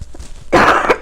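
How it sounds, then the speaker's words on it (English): A woman gives a single close, loud cough burst, harsh and breathy, after a short stretch of quiet room noise. "I have to cough."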